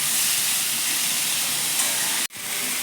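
Onion and tomato sautéing in a pan for dhaba-style butter paneer make a loud, even hiss that runs on, then cuts off abruptly near the end before faintly returning.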